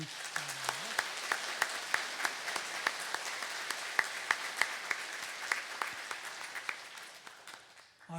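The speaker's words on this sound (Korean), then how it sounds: "우리 감사의 박수 한번" A Catholic church congregation gives thanks with applause at Sunday Mass, a soft, reverberant spread of many clapping hands with a few sharper nearby claps, fading out at the end.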